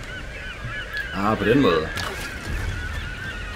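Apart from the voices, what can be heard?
birds squawking in Tomb Raider video game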